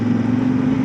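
Steady mid-pitched drone from a Voge DS800X Rally motorcycle engine as the throttle is released, a smooth even hum with no talking.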